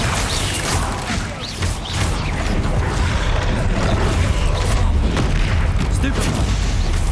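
Bombarda spell explosions in the video game Hogwarts Legacy, a dense, sustained barrage of booming blasts and crashing impacts that stays loud and continuous, with spell chatter and combat effects layered throughout.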